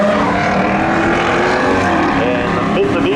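Drag race cars at Seekonk Speedway spectator drags, a Malibu wagon and a Mitsubishi VR4, roar loudly and continuously with engine drone at launch, nearby and dense, under a faint announcer voice.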